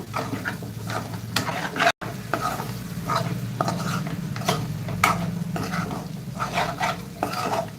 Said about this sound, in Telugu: ఇలా కలుపుకుంటూ ఫ్రై చేసుకోవాలి